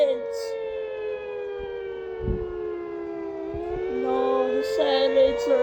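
A tornado siren in a video game wails a loud, steady tone that slowly drifts in pitch, with a second higher siren tone joining and stepping up and down toward the end.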